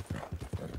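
Horse hooves clip-clop across open fields in Red Dead Redemption 2, with three quick, close, evenly spaced hoof strikes at a gentle trotting pace.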